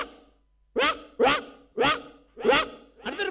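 A voice imitates a poor household's dog barking, giving five loud, evenly spaced yelping barks close to the microphone after a short silence.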